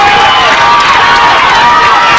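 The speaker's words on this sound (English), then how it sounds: "the Leopard crowd is into this one" A high school football crowd at a Malvern Leopards game against Benton cheers in a loud, sustained roar, with an announcer's voice faintly mixed in.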